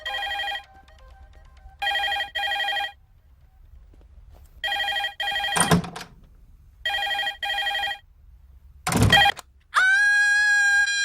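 A telephone rings in repeated double bursts during a fight scene in a Telugu film, cut through by two heavy crashing impacts, with a brief bright tonal sweep at the end.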